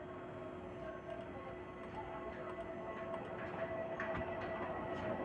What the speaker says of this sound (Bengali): আমি জাস্ট একটা প্রিন্ট দিলাম